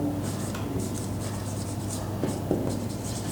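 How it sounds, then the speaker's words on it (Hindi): Pen or marker scratching continuously across a board or paper while writing out transistor configuration notes for an electronics lesson, with a steady low hum underneath. "मैं लिखता हूँ"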